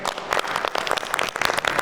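A studio audience at a game show applauds for Hovsana, with a burst of crowded, uneven hand claps that stays loud and close throughout the short stretch.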